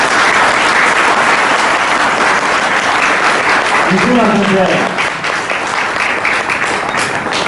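An audience claps at length after a lecture by Nishimura Shingo, steady loud applause throughout, with a voice briefly speaking over it partway through.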